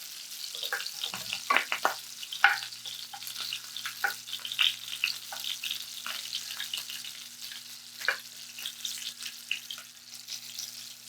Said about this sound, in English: we're going to cook these up in batches. You can already see they brown up really quickly